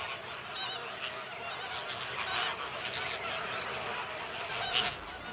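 A Caribbean flamingo colony calls together, a crowded chorus of honking, goose-like cries from many birds overlapping at a moderate distance, with a few louder calls standing out near the end.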